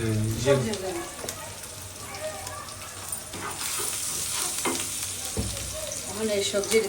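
Vegetables fry for khichuri in a pan on a brick-built stove, giving a steady close sizzle broken by stirring scrapes while people talk nearby.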